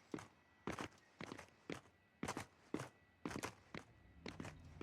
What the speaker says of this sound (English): Is that you guys stomping around in your big magnetic boots?